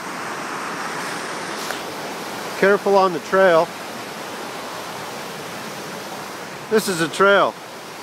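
Waterfall at Hole in the Wall near Tumbler Ridge, a broad, steady roar of rushing water filling the whole stretch, with a person briefly talking over it twice.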